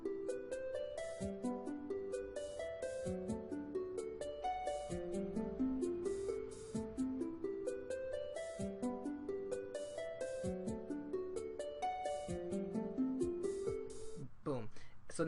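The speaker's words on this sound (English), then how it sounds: "So with the harp playing and the drums, it's gonna sound like this." Soft plucked harp notes ripple in bright, repeating arpeggios over light, subtle drum percussion in a gentle RPG town theme, ending on a brief flourish.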